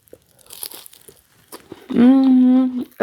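Short crisp crunches of biting into fried grated potato pancakes (deruny), a few close, sharp bites with quiet chewing, followed by a sustained voiced sound.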